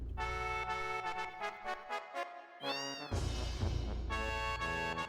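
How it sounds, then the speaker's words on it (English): A cat meowing in Final Fantasy VII, a string of clear, tonal mews repeating close up over a steady game-music backdrop. "Why do I hear a cat?"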